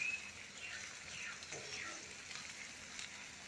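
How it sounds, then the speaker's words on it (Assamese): Onions sizzling in hot oil with ginger garlic paste in a pan, a steady close frying hiss that runs without a break and has no talk over it. "এতিয়া প্ৰথমতে মই পিঁয়াজখিনি তেলত দি দিছোঁ আৰু লগতে আদা নহৰু পেষ্টখিনি দি দিছোঁ আৰু অকণমান ভালকৈ ভাজি ল'ম"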